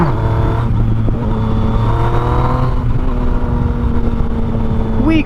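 A motorcycle engine on a rainy ride revs hard for a brief wheelie, a loud close roar that climbs in pitch, drops back, then holds a steady drone as the bike rolls on.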